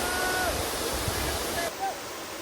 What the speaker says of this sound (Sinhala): මොකද මේ දවස්වල වැහැලා වතුර දැන් ගොඩක් වෙනවා දියැල්ලේ